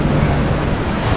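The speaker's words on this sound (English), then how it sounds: "if you just look out to the ocean, definitely exciting here with these waves, pretty big waves" Big ocean waves at Waikiki Beach, a loud broad wash of surf roaring steadily, blended with heavy wind buffeting the microphone, brief and unbroken.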